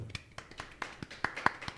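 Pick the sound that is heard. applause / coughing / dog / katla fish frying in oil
applause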